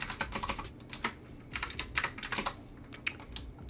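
Keys clatter on a computer keyboard in quick, uneven bursts of typing with short pauses between runs, close and clear with no voices.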